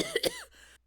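A voice imitates a cough: a short, close burst of two or three rough hacking coughs lasting under a second, followed by a brief throaty trail.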